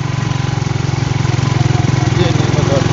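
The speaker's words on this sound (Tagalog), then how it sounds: "Yun yung motor." A motorcycle engine runs steadily with a loud, throbbing low rumble during a night ride, holding an even rhythm throughout with faint background noise.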